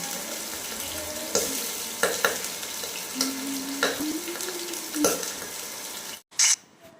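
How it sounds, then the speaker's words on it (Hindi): Fenugreek and onion frying in a pan, a continuous close sizzle with scattered spoon scrapes and clinks, then a brief break near the end followed by a short loud burst. "सबसे पहले मेथी डाल के और फिर मैंने इसमें डाल दिया है प्याज, ताकि ये जल्दी से भुन जाए"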